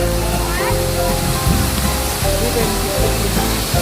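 A waterfall at the entrance of Sriayuthaya Lion Park, a zoo in Ayutthaya, Thailand, gives a constant broad rushing wash of water, with a voice talking over it.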